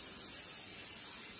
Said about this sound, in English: coat it with a little bit of cooking spray to prevent sticking